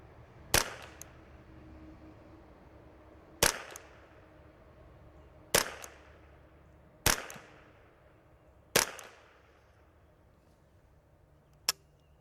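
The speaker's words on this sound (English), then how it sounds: "We're gonna shoot 5 more before we go ahead and install the next part." Five sharp, close shots from a Ruger 10/22 .22LR rifle, spaced irregularly a couple of seconds apart, each with a quick fading ring. A fainter click follows near the end, with no talking.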